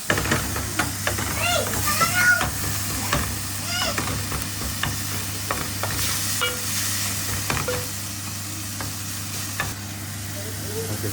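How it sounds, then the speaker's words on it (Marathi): Tomato and slit green chillies fry in a pan for Goan prawn curry, with a steady sizzle and hiss and repeated stirring clicks, while a voice talks over the cooking in places. "टमाटर डाल के थोड़ी भुनेंगे और कितना भुनना है ये मैं आपको बताऊंगा उसके बाद डालेंगे स्लिट ग्रीन चिली"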